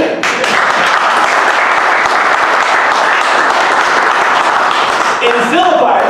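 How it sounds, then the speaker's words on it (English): A church congregation breaks into sustained applause for the preacher, a loud, dense wash of clapping that fills the room steadily for several seconds and thins slightly near the end. "I think that's the first time anyone's clapped for anything I've said"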